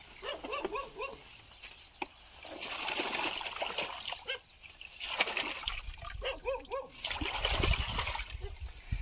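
Turmeric rhizome being washed in water, with sloshing splashes and trickling under someone talking, while a dog barks in short bursts nearby.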